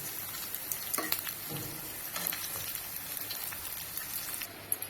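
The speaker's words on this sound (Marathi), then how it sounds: "यांना देखील मी काय करून घेणार आहे चांगल्या तेलावरती फ्राय करून घेणार आहे" Pieces of raw Totapuri mango fry in hot oil, giving a soft, even sizzle with scattered light crackles and a few faint stirring scrapes, quiet and with no speech.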